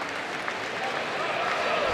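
Full-capacity crowd applauding at the 2014 US Sumo Open after a bout, a dense wash of clapping and crowd noise held steady throughout, with a commentator's voice faintly underneath.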